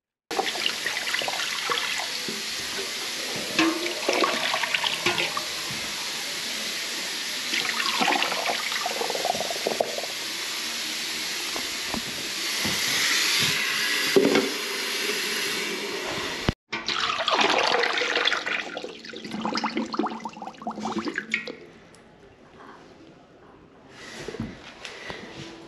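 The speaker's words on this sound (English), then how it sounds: "we're going to pour some water down these urinals and see what they mean by slow running" Water poured from a metal bucket into slow-draining urinals, giving a rushing splash and trickle that runs on in bursts for long stretches, then fades into a quieter gurgle near the end.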